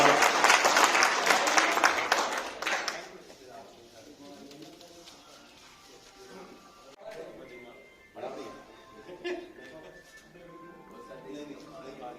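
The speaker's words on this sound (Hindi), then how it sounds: "एक बार और जोरदार तालियां।" Loud applause from a crowd at a community awards and blood donation ceremony in Rajasthan, strong for about three seconds, then fading into quieter room sound with some talk.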